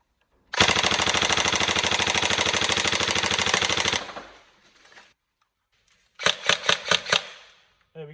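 Tokyo Marui MK18 next-gen airsoft rifle firing heavy ammo, a loud sustained full-auto burst of rapid clattering shots, then silence, then a shorter burst of about six distinct shots.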